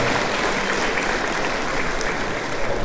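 Steady, dense applause from a crowd for a band at a musical performance in Santa María Tlahuitoltepec, continuous clapping without pause throughout.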